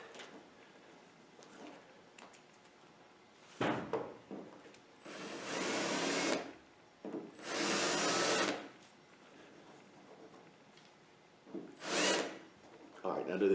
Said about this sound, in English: Alright, I'm going to countersink both sides.